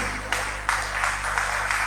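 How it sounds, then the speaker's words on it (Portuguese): Congregation at a Brazilian evangelical church service clapping together for Jesus, a steady dense wash of applause filling the sanctuary, with swells of louder clapping and no voices over it. "Dê uma salva de palmas para Jesus."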